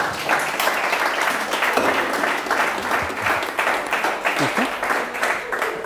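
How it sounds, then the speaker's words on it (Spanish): A church audience at a Catholic talk on the Eucharist breaks into sustained applause, a dense wash of many hands clapping at a steady level for several seconds. "Aplaudo"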